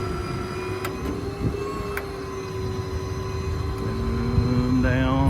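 A crane winch on a 2014 Ford F550 service truck hauls its line upward with a continuous mechanical whine and hum, steady and fairly loud, the motor tone rising slightly near the end.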